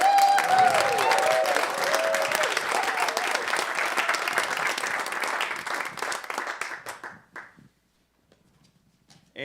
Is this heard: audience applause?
yes